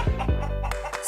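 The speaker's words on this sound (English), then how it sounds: "Chicken. Chicken." A chicken gives a few quick, close clucks in a short burst.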